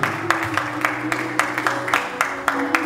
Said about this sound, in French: On acclame les Seigneurs.